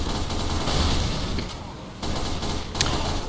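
Sustained gunfire and explosive bursts from the Team Fortress 2 video game, a dense continuous barrage with a few sharper cracks, loud throughout.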